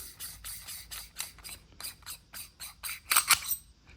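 Threaded halves of a press-fit bicycle bottom bracket being unscrewed by hand, giving a close, steady run of quick dry ratcheting clicks and scrapes that build slightly louder near the end, with no talking.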